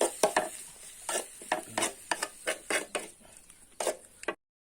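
Minced wild rat larb being stir-roasted in a pan: a run of about a dozen sharp, close scraping strokes in an uneven rhythm with a faint sizzle between them, no voices, ending in sudden silence.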